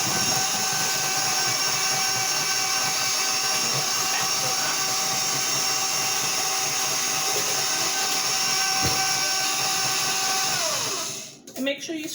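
Electric stand mixer whirring steadily while kneading pierogi dough, a loud continuous motor hum that runs alone for about eleven seconds before cutting off near the end.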